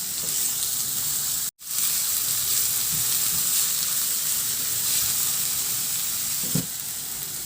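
Onion sautés with ginger in a pan while fish dish preparations continue, making a loud, steady frying sizzle and hiss throughout, broken by a brief cut and a few soft stirring knocks, with no talking.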